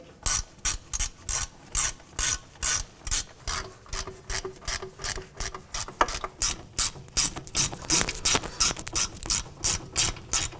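A hand ratchet snugs the front wheel hub bolts on a 2007-2013 Acura MDX during a hub and bearing replacement, clicking in about twenty even, rhythmic bursts, close and clear with no talking.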